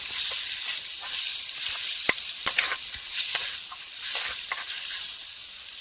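Spices with kaffir lime leaves, bay leaves and turmeric leaves sizzle steadily in a frying pan for a snapper fish-head curry, with scattered scraping clicks of stirring; continuous close hiss, no voices.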